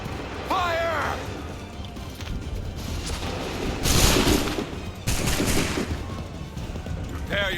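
Musket volleys from a line of soldiers in Assassin's Creed 3, two dense, crackling bursts of gunfire ringing out at mid distance over background commotion, with a shouted voice just before.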